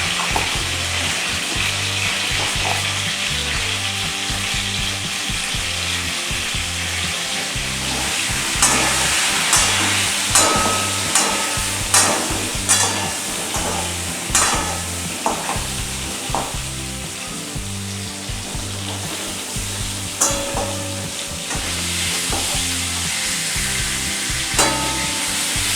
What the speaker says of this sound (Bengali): আর পটল ভাজার সময় আমি কিছুটা লবণ হলুদ দিয়ে ভাজবো।